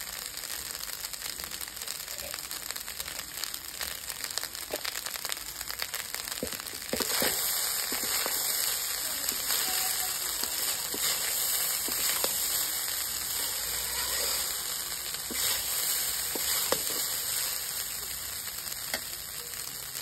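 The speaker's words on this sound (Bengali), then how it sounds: "এই যে আমার বাসি ভাত ভাজা রেডি হয়ে গেছে।" Leftover fermented rice frying in a pan, a steady hiss and crackle of sizzling grains that grows a little louder partway through, with scattered light tapping and scraping, no voices.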